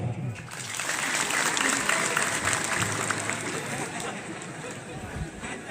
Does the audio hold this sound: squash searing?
no